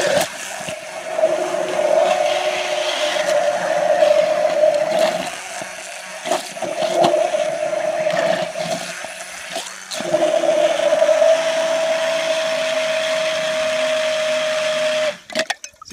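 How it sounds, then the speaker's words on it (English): A 200 watt hand blender running in water whirs steadily with a strong motor hum, briefly dipping and surging, then cutting off near the end. "I've got this 200 watt hand blender connected up here, and I'm gonna do some tests"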